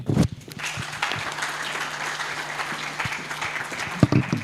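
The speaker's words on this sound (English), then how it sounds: "An even warmer round of applause for her" The audience at a green energy and policy conference applauds the moderator with a steady, fairly close wash of clapping that holds throughout, with a few louder bumps near the start and end.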